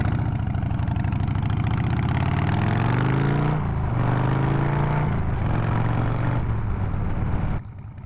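A Harley motorcycle riding through a residential neighborhood, its engine loud and close with a continuous throaty drone that rises in pitch as it revs, dips briefly, climbs again, then drops off near the end.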